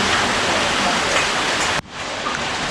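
Heavy rain pours down steadily at a construction site where a second-floor slab is being formed, a loud continuous hiss that drops abruptly partway through before resuming.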